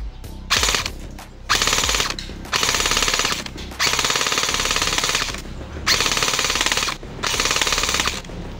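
HK416D airsoft rifle firing on full auto: several loud, close bursts of rapid mechanical shots separated by brief pauses.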